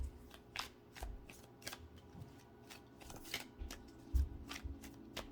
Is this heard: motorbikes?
no